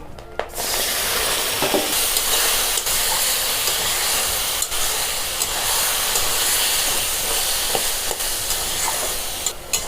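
Taro leaves (kochu shak) fry with grated coconut in a pan, a loud, steady sizzle and hiss that carries on throughout, broken by occasional stirring clicks.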